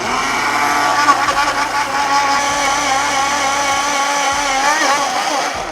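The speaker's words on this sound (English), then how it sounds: "Now this is a great blender." A blender runs loud and steady with a high motor whine, the pitch wavering slightly as contents churn.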